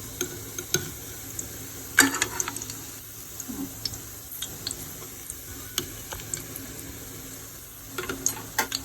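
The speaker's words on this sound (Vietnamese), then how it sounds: "Mình thắng tóp mỡ nó vàng lên gì thì mình vớt bớt ra." Pork fat renders into cracklings in a pan, giving a soft, steady sizzle with light scrapes and clicks of stirring, fairly quiet and without talk.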